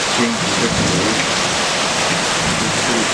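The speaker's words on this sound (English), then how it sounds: "So this is a pretty bad rain" Heavy rain drums on the roof of a log cabin, a steady, loud, close hiss and patter filling every moment without a break.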